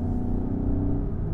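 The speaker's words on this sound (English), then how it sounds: "I don't think this engine sounds that good at low RPMs." A low, throbbing engine of a 2017 Volkswagen GTI idles at low revs, steady and close, with a deep rumbling pulse.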